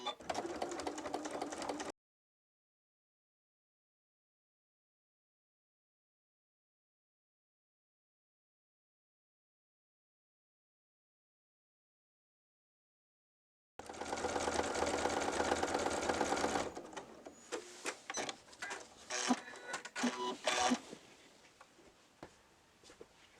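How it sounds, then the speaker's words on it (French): A sewing machine stitches around the edge of a fabric bag in short buzzing runs, a steady whir for a few seconds then stop-start bursts, with a long silent gap between. "Et maintenant, on va coudre tout le tour."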